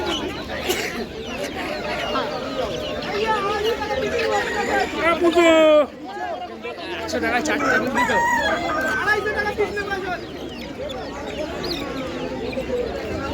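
Rooster crowing and hens clucking among ducks at a busy open-air poultry market, with a crowd's chatter and a voice running throughout, the birds loud and close.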